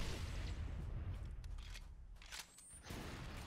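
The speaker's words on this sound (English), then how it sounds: "Let's slip another grenade in there." A grenade explosion in Halo CE on a co-op Legendary run: a low, booming blast rumbles up from the start and fades, followed by a few scattered pops and a brief mechanical whine, with no speech.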